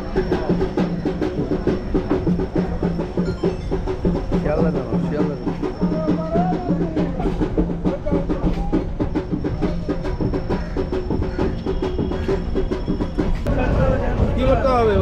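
A local train heading towards Namkhana rumbles along with a steady rhythmic clatter of wheels and a high tone across the whole stretch, with voices talking over the noise.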